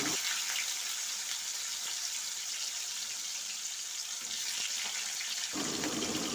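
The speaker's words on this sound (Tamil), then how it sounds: "கடுகு உளுந்து போட்டு லைட்டாக பொரிய விடுங்க பொரிஞ்சதும் நம்ம கட் பண்ணி வச்சுருக்க வாழைக்காயை சேர்த்து" Mustard seeds, urad dal and raw banana frying in oil, a dense continuous bright hiss of hot oil holding steady throughout, with no voices.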